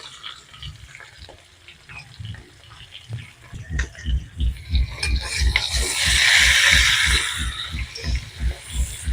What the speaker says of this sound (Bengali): এবারে ভালো করে মিক্স করে নেব।